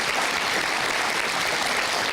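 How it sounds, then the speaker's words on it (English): A crowd applauds at a solar power project announcement, with loud, continuous, dense clapping filling the whole stretch without a break. "Let's give them a big round of applause."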